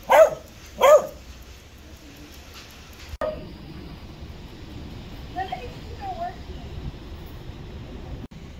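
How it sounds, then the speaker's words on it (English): A dog gives two loud barks near the start, then falls quiet while faint distant sounds and a soft voice carry on under steady outdoor background noise. "I found the dog."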